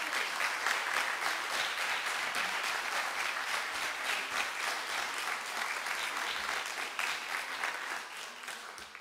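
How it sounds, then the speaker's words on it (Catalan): A hall audience applauds at a diploma ceremony for radio and communication assistant courses, giving a steady burst of clapping that holds for about nine seconds and tapers slightly at the end. "Un aplaudiment per ella"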